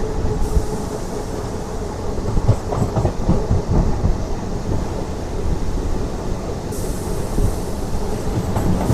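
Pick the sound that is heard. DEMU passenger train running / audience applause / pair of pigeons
DEMU passenger train running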